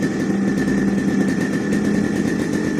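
A Yamaha RX100 two-stroke motorcycle engine runs loud and close as the throttle is opened, a steady buzzing drone with a sustained pitch and no speech over it.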